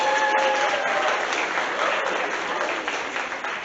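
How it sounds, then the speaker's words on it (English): An audience at a school winter concert gives a round of applause for a custodial staff member, many hands clapping densely and continuously, close and loud, tapering slightly toward the end. "Give him a big round of applause with him"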